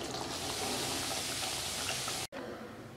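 Salem-style eggplant kuzhambu, a Tamil curry, bubbles in oil with a steady, dense sizzle and hiss close by, cutting off abruptly for an instant before resuming.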